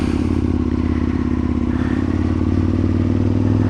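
An Aprilia Tuono Gen 2 V-twin motorcycle engine runs loud and close while riding, with a continuous throbbing, pulsing exhaust note and wind noise, no voices.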